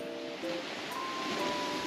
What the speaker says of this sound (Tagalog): Kahit malakas na ang alon